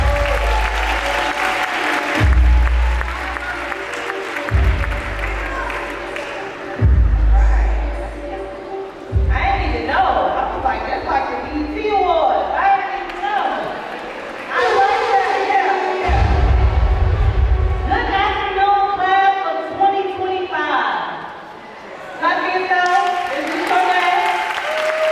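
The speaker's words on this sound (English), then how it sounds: "Please give a warm round of applause to Ms." An audience at a high school graduation ceremony claps in bursts that fade and return, with a presenter's voice and music between the rounds of applause.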